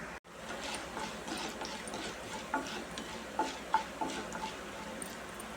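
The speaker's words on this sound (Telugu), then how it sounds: "ముందుగా పచ్చిశనగపప్పు ఒక స్పూను ఒక స్పూను మినప్పప్పు వేసి వేయించుకోవాలి" Chana dal and urad dal roasting in oil in a kadai, with a soft continuous sizzle and scattered light ticks and scrapes from stirring.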